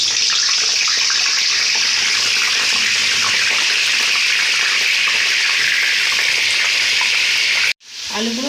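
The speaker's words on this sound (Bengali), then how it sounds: "তেলটা গরম হয়ে গেছে এবার এক এক করে আমরা আলুগুলো ওর মধ্যে দিয়ে দিচ্ছি" Potatoes for chicken biryani fry in hot oil in a wok, a loud, dense, continuous sizzle that fills the whole stretch before cutting off abruptly near the end and briefly resuming.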